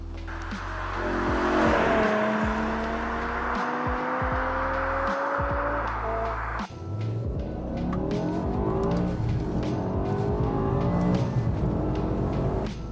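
A high-revving 8,250 RPM V10 engine in a BMW E60 M5 screams through the gears, rising and falling in pitch with sharp shifts, loud and close throughout.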